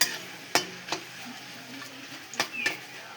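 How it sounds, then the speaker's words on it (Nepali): Chillies and garlic frying in a pan while being stirred: a steady low sizzle broken by several sharp scraping clicks of the spoon against the pan, close and fairly quiet. "रातो भइन्जेलसम्म भुट्ने"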